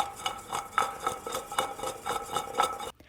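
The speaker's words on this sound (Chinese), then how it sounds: "往花菜当中加入孜然粉和椒盐粉， 可以像我这样颠匀了" Cauliflower pieces tossed in a bowl with cumin powder and salt-pepper seasoning give a steady run of soft rattling shakes and light clinks, about a dozen quick repeated tosses close by, then a sudden stop.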